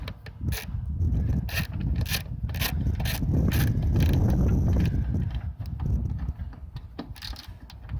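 Bolts on a 2016 Nissan Altima 3.5 SL reverse light housing being tightened, with close rapid ratcheting clicks and rubbing in bursts, busiest in the middle and thinning toward the end.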